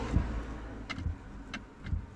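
Faint, quick ticking from the shift lock solenoid of a 2017 Nissan Altima, a few soft clicks spaced roughly half a second apart, set against low cabin rumble as the brake pedal is pressed with the ignition on.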